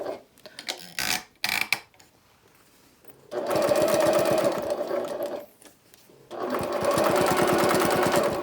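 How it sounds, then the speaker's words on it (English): A sewing machine runs a basting stitch with a 1/8-inch seam allowance along a zipper edge on a laptop bag panel. A few clicks come first, then two steady, close runs of rapid stitching separated by a short pause. "I'm just going to do a quick basting stitch, and I'm going to use 1/8 of an inch seam allowance"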